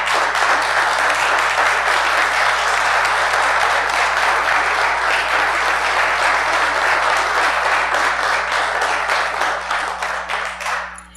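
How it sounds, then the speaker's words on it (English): An audience at a Bastrop city council meeting gives loud, sustained applause for volunteers, a thick continuous roar of many hands clapping that holds steady and then thins out in the final second. "So if we could have a round of applause for all the volunteers."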